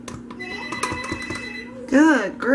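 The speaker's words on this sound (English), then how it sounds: "my phone is ringing off the hook" A telephone rings repeatedly in a home soap-making session, a steady electronic bell tone holding under the clip before a louder burst of warbling rings near the end.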